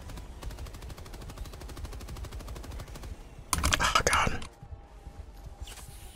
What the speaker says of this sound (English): There are also turrets that you can get, and it'll launch down, and it'll sit there until it runs out of ammo